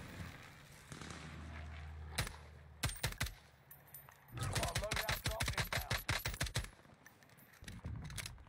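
Call of Duty gameplay gunfire: isolated shots, then long rapid automatic bursts and scattered reports over a low rumble, with a voice talking partly over it.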